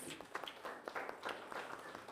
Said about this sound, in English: All the learners, let's clap for Koptega, please.